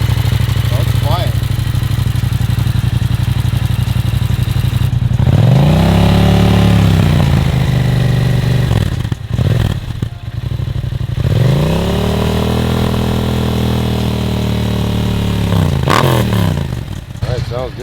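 A stunt motorcycle engine idles and then revs hard twice in close succession, each rev climbing and falling back, while voices talk nearby.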